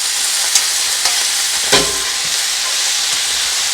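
Drained spinach cooks with onions in a pan while a steady, close sizzle and frying hiss runs throughout, broken by a few faint clicks of a utensil against the pan.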